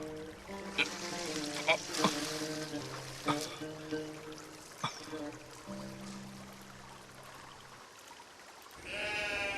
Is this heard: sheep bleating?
yes